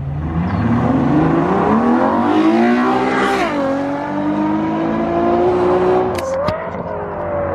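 A Ferrari FF with its exhaust valves wired open and an X-pipe accelerates hard, its engine note climbing in pitch through gears with a brief dip at each shift, loud and close.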